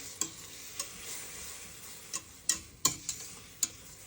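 Sugar caramelizing in a pan over medium heat hisses softly while a spoon stirs it, with a few sharp scrapes and taps against the pan scattered through the steady sizzle.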